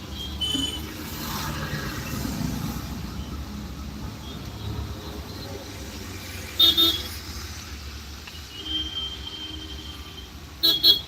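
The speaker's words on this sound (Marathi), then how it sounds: "गावाला हॉर्न मारायला लागला" A vehicle horn toots in short bursts, once midway and again near the end, over a steady hum of engine and road noise.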